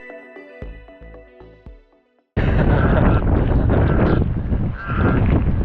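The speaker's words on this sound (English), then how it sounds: "Still windy" A few harsh bird calls, then a sudden loud roar of gusty storm wind on Maria Island, Tasmania, buffeting the microphone and continuing steadily to the end.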